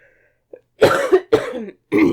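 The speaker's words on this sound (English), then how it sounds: "I'm going to cough for 1 second." A few harsh coughs in quick succession, close and fairly loud, after a brief silence and a small throat sound.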